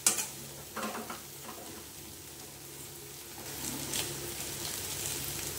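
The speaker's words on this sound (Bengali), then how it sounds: "এইবারে এর ভেতরে ডালটা ফোড়ন দেবে।" Dal tempered into fried soybean masala in a pan for a Bengali chana dal dish, giving a soft steady sizzle with stirring scrapes, a brief clatter at the start and the frying swelling a little louder toward the end.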